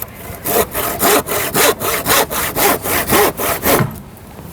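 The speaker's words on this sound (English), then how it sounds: "Finish it with a hand saw, rub it in." A hand saw cuts through roof timber for a garden room, with about a dozen steady, loud back-and-forth rasping strokes in an even rhythm, close up, and no voices.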